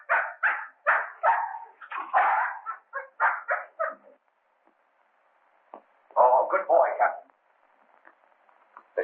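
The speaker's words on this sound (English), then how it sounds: "Whose dog is this?" A dog barks in repeated bursts inside a classic locked-room murder mystery film, mixed with voices, then pauses before a shorter flurry of barks near the end.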